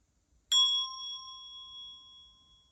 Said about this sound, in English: we're going to strike it again and bring it up to the student's ears